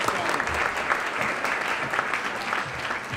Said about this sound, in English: How about a round of applause for Cesar Chavez,